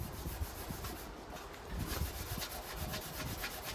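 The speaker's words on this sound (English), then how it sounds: "It's gonna take a bit of rubbing" Steady back-and-forth rubbing by hand on a surface, a close, soft scratchy friction repeating in an uneven rhythm.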